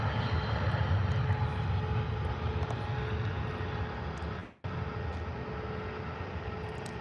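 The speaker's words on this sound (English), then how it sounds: "I do love the SAS jets, the Mitsubishis." An SAS Mitsubishi regional jet at Birmingham Airport, heard as a steady jet engine roar from a moderate distance, fairly loud and unbroken, with a brief dropout near the end.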